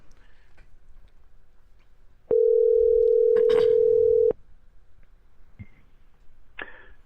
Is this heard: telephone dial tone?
yes